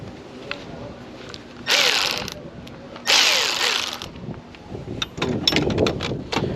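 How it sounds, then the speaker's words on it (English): Mechanical tightening of the alternator belt bolt on a 2001 Toyota Camry, two loud bursts of ratcheting or tool noise followed by a run of clicks and clatter close by, over a low background hum. "I went on ahead and tightened this top bolt up right here"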